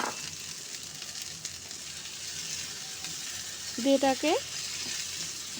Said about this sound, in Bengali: এই মশলার সঙ্গে খুব ভালোভাবে কষিয়ে নেব।